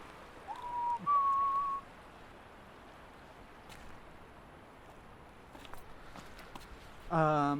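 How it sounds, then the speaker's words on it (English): Person idly whistling while walking, two short tonal whistles near the start over faint footsteps and outdoor ambience, then a brief voice at the end. "You may have heard me like do this very brief idly whistling."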